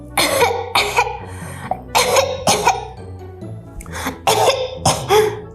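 A child coughs in a few sharp bursts separated by short pauses, close and fairly loud, with a throat-clearing quality.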